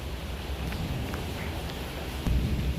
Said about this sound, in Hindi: ये देखो भाइयों, हमारा घर में पानी आ रहा है बारिश का